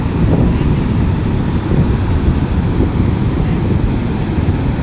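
High sea waves and strong wind on the beach at Madhupur, a loud, continuous roar of surf and buffeting wind noise on the microphone, with no voices.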